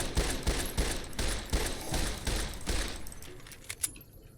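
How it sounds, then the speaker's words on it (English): Rapid bursts of gunfire aimed at giant bison in the video game Fallout New Vegas, repeated loud shots in a fast, uneven rhythm that thin out toward the end, with a couple of sharper cracks near the close. "Now ignore me as I shoot giant bison with bullets"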